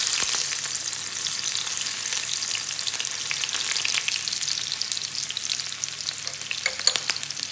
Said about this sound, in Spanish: Vamos a echar la cebolla.